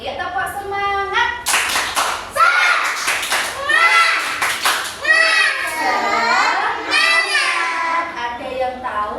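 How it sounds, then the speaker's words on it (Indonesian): Children in a classroom do a rhythmic 'tepuk semangat' spirit clap, with sharp patterned hand claps woven between loud chanted young voices, close and lively throughout. "tepuk semangat dulu biar anak-anak semangat untuk belajar hari ini"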